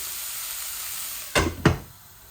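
Spices frying in hot oil in a pan for a Bangladeshi tilapia fish dish: a faint steady sizzle, then two sharp bursts of louder frying or stirring close by, fading back down.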